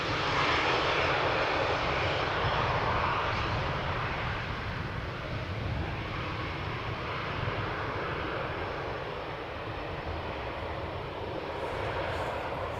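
An airplane arriving at Amsterdam Schiphol Airport gives a loud, steady jet-engine roar that fills the whole stretch, easing slightly toward the middle and building again, with no voices.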